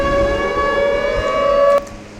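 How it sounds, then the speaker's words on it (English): A fighter jet's siren in Garry's Mod wails as a steady, loud tone with layered harmonics for nearly two seconds, then cuts off abruptly, leaving a quieter background hum. "you press R, not E, for the siren"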